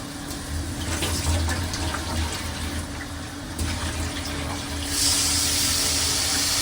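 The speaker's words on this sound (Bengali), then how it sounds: "পানি দিয়ে দিচ্ছি" Water poured into a cooking pot of spice masala, a continuous splashing, rushing flow for several seconds that grows brighter and louder toward the end, heard close with no speech.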